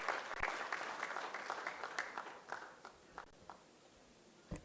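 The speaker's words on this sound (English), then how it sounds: "A round of applause." Audience applause welcoming a speaker to the podium at a diplomacy and sustainability dialogue, quiet and distant, tapering from a steady patter to a few scattered claps.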